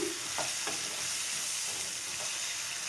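Chopped tomatoes frying in a pan for a tomato-garlic chutney, a steady broadband sizzle with a couple of soft stirring scrapes near the start, continuous and close with no talking.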